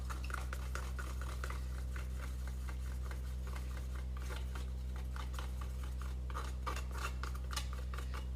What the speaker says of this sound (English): get a clean spoon to mix that together